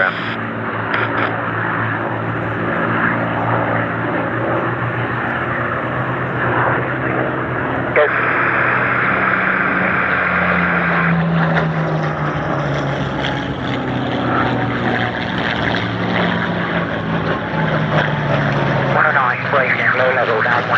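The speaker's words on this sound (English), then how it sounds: "Thunderbolt's on the ground." A P-47 Thunderbolt propeller fighter at the Sywell airshow gives a steady, loud engine roar with a slowly falling drone as it passes, while a commentator talks over it throughout.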